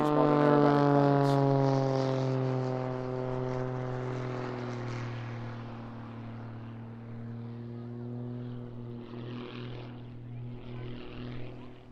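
An aerobatic aircraft at an airshow, its propeller engine droning loud and steady overhead, the pitch slowly sliding lower as the plane climbs and draws away.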